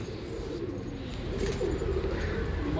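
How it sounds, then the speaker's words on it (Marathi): Pigeons in a loft give soft, low, throaty coos that run steadily and close, with faint rustling and a light jangle mixed in. "मित्रांनो इथं दाखवायचं म्हणलं तर भरपूर कबूतर आहेत."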